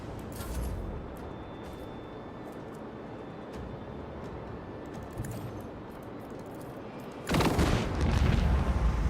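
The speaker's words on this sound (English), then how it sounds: "The explosion of one ship took out the second ship." Starship weapons fire and explosions fill a space battle in the Rogue Trader video game. A low rumbling barrage runs under a continuous drone, then a sudden loud blast surges near the end.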